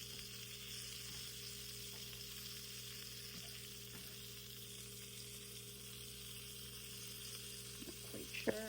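Ravioli sizzle and crackle steadily in hot oil, a constant frying hiss with a few small pops, no voices.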